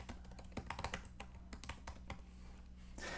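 Typing on a computer keyboard, with close, crisp key taps in an uneven, fast rhythm, some in quick clusters and some isolated, over a steady low hum.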